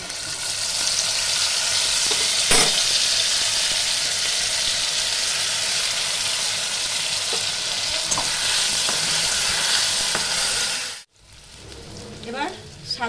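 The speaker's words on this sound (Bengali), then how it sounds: "আমি এখানে এবার সব মশলাটা দিয়ে মশলাটা ভালো করে কষে নেব" Spices and potatoes sizzling loudly in hot oil for a Bengali chhana curry, a dense continuous fry with a few utensil clinks, cutting off abruptly near the end to quieter kitchen noise.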